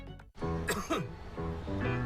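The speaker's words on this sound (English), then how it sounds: "It's just a cough." One sharp cough bursts out after a brief pause, with a voice speaking before and after it.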